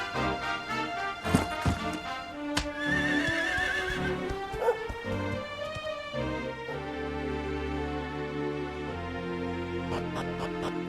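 Dragon Quest XI game horse whinnies loudly with rising and falling neighs, mixed with hoof clip-clops and bright game chimes, then hooves gallop rhythmically under a soft musical tone toward the end.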